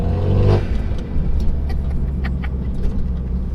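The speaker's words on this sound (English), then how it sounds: "You can hear the turbo noise through the exhaust so well." A Clubsport-spec car engine rumbles steadily up close, with a whooshing turbo whistle heard through the exhaust and exhaust burble riding over the deep drone.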